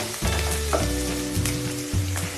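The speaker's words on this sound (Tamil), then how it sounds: "இப்போ இது ஒரு 2 நிமிஷம் வதங்கட்டும்." Onion, tomato and vegetables sizzle steadily in a pan for Indian-style masala pasta, a close, continuous frying hiss with a few soft stirring bumps and no talking.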